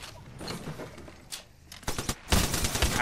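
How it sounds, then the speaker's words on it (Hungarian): Gunfire in the Apex Legends video game comes as scattered sharp bursts, a short rapid volley near the end, set against quieter game sounds with no voices. "lövés!"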